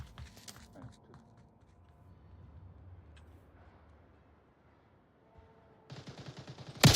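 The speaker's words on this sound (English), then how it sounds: "Multiple gunshots on north as Chalk's detour gets finished by Seal." Bursts of rapid gunfire in the VR shooter Onward during an esports match, a sharp volley at the start, then quieter rumbling, ending with loud rattling automatic fire.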